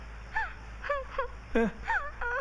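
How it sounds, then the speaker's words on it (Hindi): Someone cries in a series of short, wavering wails and whimpers, rising and falling in pitch, fairly close and moderately loud. "ये तो किसी के रोने की आवाज है"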